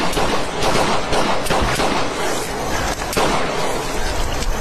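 Rapid, dense gunfire aimed at fish during a fishing outing, shots cracking one after another in a loud, continuous volley with no pauses and no talk.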